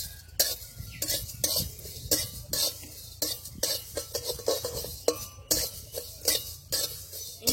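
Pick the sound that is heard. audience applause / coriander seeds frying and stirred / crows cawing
coriander seeds frying and stirred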